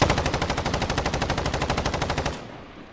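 Rapid automatic gunfire in Call of Duty Warzone, a loud close burst of evenly spaced shots lasting about two seconds before cutting off into a fading tail.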